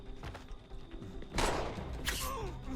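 A gunshot rings out in the Assassin's Creed III video game, a sharp burst mid-clip followed by a second crack, set against a busy background of game ambience and scattered noises.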